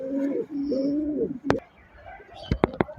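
Restless pigeons coo in low, wavering phrases close by, followed by sharp clicks and flutters as the birds shift and flap.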